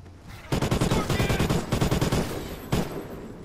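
Rapid bursts of automatic gunfire from a video game rattle in quick strings, close and loud, with a final single shot after a brief pause.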